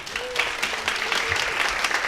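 Applause at a summer business community meeting, a room of people clapping steadily and fairly loudly for a sponsor being called up, with a brief voice faintly mixed in.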